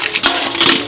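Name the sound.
water running from a tap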